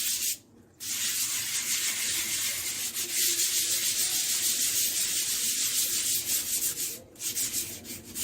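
Worn sandpaper rubbing the edges of a cement pot, steady scratchy strokes close up with two brief pauses, no voices.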